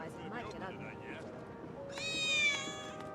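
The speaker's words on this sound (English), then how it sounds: "I swear I just heard the cat." A cat meows in the video game Final Fantasy VII Remake, a short bright call rising over game music and background speech near the end.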